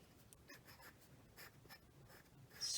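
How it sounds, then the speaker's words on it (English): A pen or pencil writing on paper, a steady run of soft scratchy strokes at close range, growing slightly louder and sharper near the end, with no voices. "So I'm going to write sprinkle"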